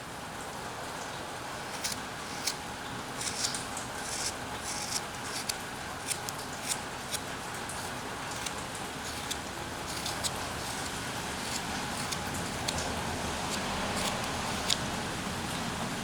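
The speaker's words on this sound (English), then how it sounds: "It's a very rainy day here." Rain falls steadily on a rainy day, a constant soft hiss broken by scattered sharp drip ticks and patters at irregular intervals throughout, with no voices over it.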